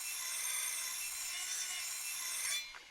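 Steady abrasive rubbing of sanding metal parts in Workshop Simulator, a continuous bright scratchy hiss that runs evenly for a few seconds, then cuts off abruptly near the end.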